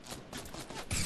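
Rapid gunfire in the video game Fortnite, a short burst of several quick cracking shots at moderate volume, with no talk.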